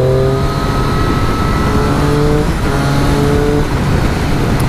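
A Triumph Street Triple 660S motorcycle engine hums steadily while riding on a motorway, a loud, close, even drone with shifting tonal whine and wind rush throughout.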